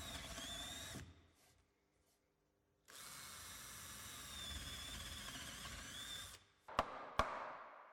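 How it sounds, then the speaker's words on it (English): Power drill with a 12 mm bit boring holes through wooden staircase newel posts, two sustained whining drilling runs separated by a pause, with a couple of sharp clicks at the end. "Use a 12 mm drill bit to bore several holes through the positions marked"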